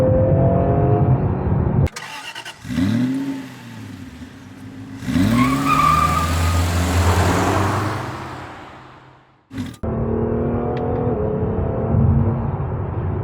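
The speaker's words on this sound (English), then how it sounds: "Love that you can hear the turbo whoosh too." Acura NSX Type-S sports car pulling hard through the gears from inside the cabin, engine note rising and dropping with shifts, a brief lift and a breathy turbo whoosh amid loud, continuous engine roar.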